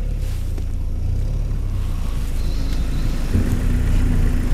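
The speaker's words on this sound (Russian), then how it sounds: "Теперь я включаю просто заднюю передачу." An Enwix Standard all-terrain vehicle shifting into reverse and driving off, a steady close engine rumble running throughout, with no talk.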